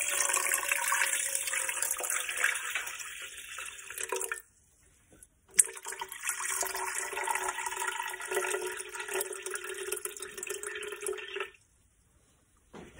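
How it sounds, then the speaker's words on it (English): Cool water poured into a bowl for sourdough baguette dough, a steady loud splashing stream for about four seconds, a short pause, then a longer pour that stops abruptly. "we're gonna add 360 grams of cool water"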